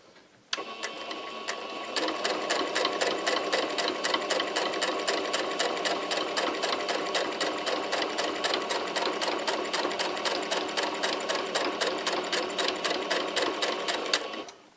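A domestic sewing machine stitches a beginner's patchwork fabric coaster. It hums and clatters in a fast, even rhythm of needle strokes for over twelve seconds at close range, starting and ending abruptly with no talk.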